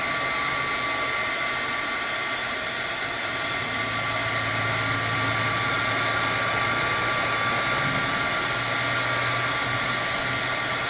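A handheld heat tool blows hot air to soften the glue in an adult coloring book's binding, a steady, loud whooshing hum that holds its level throughout, with a faint low drone underneath and no talking.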